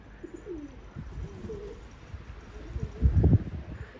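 Pigeons in snowy winter weather cooing and moving near the loft, soft low coos and rustling building to a louder flutter, with no speech.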